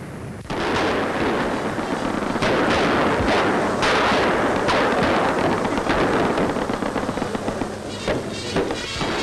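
Artillery shelling during a wartime bombardment of a Libyan harbour town, with big fires burning: a dense, continuous barrage of booms and cracks, loud and sustained, with no pauses.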